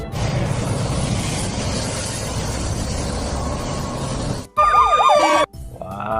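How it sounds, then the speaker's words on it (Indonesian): A toy ambulance siren gives a short, bright electronic warble of about a second. It follows several seconds of steady rushing noise, then cuts off abruptly. "Wah, kita menemukan mobil ambulans."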